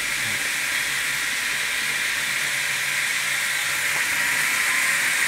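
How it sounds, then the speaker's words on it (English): A Fleischmann NX110 model locomotive's DCC sound decoder plays an air compressor effect as a steady, unbroken hiss at moderate, even volume, with no talking. "It's the air compressor."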